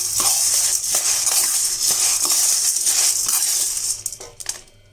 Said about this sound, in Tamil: அதில் நம்ம இந்த வெறும் கடாயில் இது போல் நல்லா வறுத்துக்கலாம்.